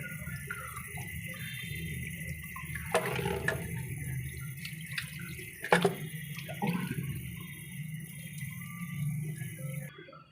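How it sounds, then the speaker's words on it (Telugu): Water splashes and runs as salted mutton pieces are rinsed in a vessel and drained, with uneven gushes and pours close by and no talk. "ఈ విధంగా శుభ్రంగా కడుక్కున్న తర్వాత దీనిలో వాటర్ మొత్తం వంచేసాను"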